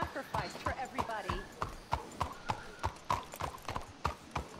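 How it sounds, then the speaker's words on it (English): Horse hooves clip-clop at a steady walking rhythm in Red Dead Redemption 2, crisp and close. A speaking voice partly overlaps them. "It seems like a reasonable spot to hitch my horse."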